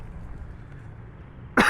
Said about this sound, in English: Excuse the Rona cough, guys.